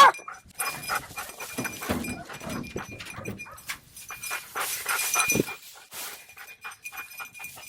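A dog panting and snuffling close by, with light clinking and jingling sounds mixed in.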